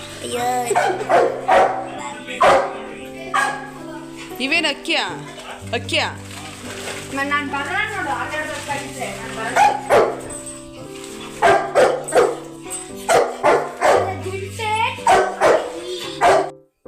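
Dog barks in repeated bursts through a village scene, mixed with people talking over them, the yaps fairly close and loud alongside some whimpering.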